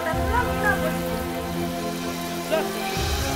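Rain falls steadily outdoors as a soft, continuous patter, partly masked by louder tonal music or background sound.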